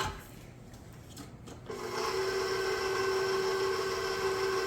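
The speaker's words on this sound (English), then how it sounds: "This mixer is on its way out. The motor is not as keen as it used to be." A worn electric hand mixer with a weakening motor beats brown and white sugar in a mixing bowl, starting with scraping and then settling into a steady, close whirring hum that continues without a break.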